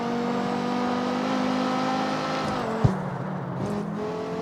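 In the CarX Street racing game, a wide-bodied Viper race car engine holds a loud, steady, high-pitched whine, then drops sharply as it shifts gear with a quick thump and builds again, with no voices.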